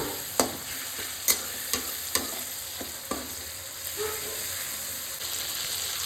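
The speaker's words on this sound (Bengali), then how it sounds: "সব কিছু ভালো করে একটু কষাবো, হালকা হালকা জল দেবো আর কষাবো।" Bata fish masala sizzles in a pan as it is sautéed with a splash of water, with sharp spatula knocks at irregular intervals over a low, steady frying hiss, close and fairly quiet, with no talking.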